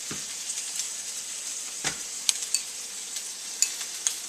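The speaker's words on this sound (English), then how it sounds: "And you have ramen stir fry." Instant ramen stir-fried with pork, shrimp and vegetables hisses in a hot pan, a steady close sizzle broken by scraping stirs and a few sharp pops.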